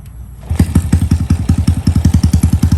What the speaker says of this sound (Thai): มาฟังเสียงเครื่องยนต์เดินเบาก่อนนะครับ